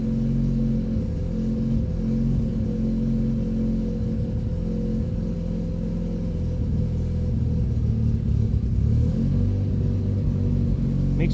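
Car engine idling steadily, a MaxxECU-tuned vehicle, with a continuous low rumble close by, no talk over it.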